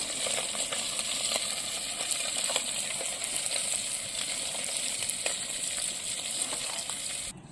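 Dry fish fry in oil over a wood fire with a dense, continuous sizzle, and small crackles and pops scatter through it.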